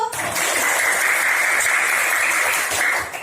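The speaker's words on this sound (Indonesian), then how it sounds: "Oke, tepuk tangan dulu" Classroom applause during a mathematics lesson on integer multiplication, a short burst of steady, fairly loud clapping from a group that tapers off at the end.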